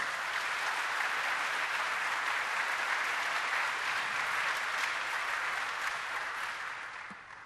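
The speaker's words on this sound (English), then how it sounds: "How about another round of applause?" A large crowd at the Civil Rights Game applauds the Ebenezer Baptist Church Ensemble with dense, sustained clapping that holds steady, then thins and fades away at the very end.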